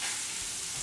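Chicken pieces frying in a pan for a dish with asparagus, pomme cocotte and sauce vierge, a steady close hiss and sizzle throughout with no talk over it.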